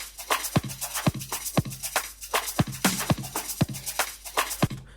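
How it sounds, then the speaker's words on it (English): Afro house top loop layered with a shaker loop, steady percussive hits and crisp high shaker rhythm repeating in a busy groove, played alone without talk. "Once you add it with a shaker loop on it, it sounds like this."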